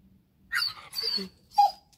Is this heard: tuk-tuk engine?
no